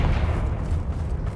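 A Confringo blasting spell explodes in Hogwarts Legacy, a dense, rumbling low boom that holds loud and steady for its whole short span.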